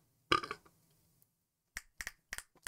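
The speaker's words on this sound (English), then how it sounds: "Sorry for burping." A single short, close burp, followed after a pause by a few sharp finger snaps, with quiet room silence between them.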